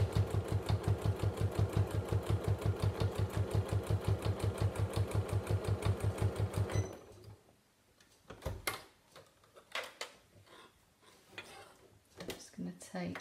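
A sewing machine stitches fabric over elastic with a fast, regular mechanical clatter for about seven seconds, close and loud, then stops; afterward come handling clicks and rustles while a person talks.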